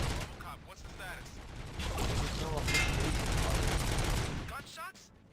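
Dense bursts of gunfire and mechanical clatter in the video game RoboCop: Rogue City, loud and sustained through most of the stretch before dropping off, with voices briefly audible near the end.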